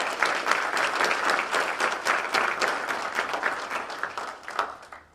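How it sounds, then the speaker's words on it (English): Audience applause at a 2021 high school athletic awards ceremony: a dense, sustained patter of many hands clapping that holds steady, then thins and fades out toward the end. "So let's give her one more round of applause."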